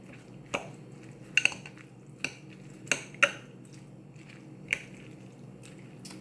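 A utensil stirs albacore tuna salad in a bowl, giving about eight soft scattered clinks and squishes at an uneven pace, close and fairly quiet.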